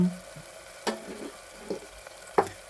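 Masala fries in oil in a pan for mutton curry, a low sizzle broken by a few sharp stirring scrapes.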